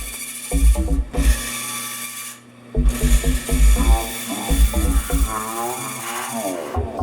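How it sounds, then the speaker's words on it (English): Japanese handsaw cutting thin cedar strips for a birdhouse tray frame, with loud, close, rhythmic rasping push-pull strokes in bursts and a short pause partway through. "I'll cut out some little strips of cedar to make a frame around that tray."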